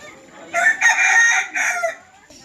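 A rooster crows loudly and close at a zoo, one drawn-out call in several rising and falling segments, with faint clucking of white chickens around it.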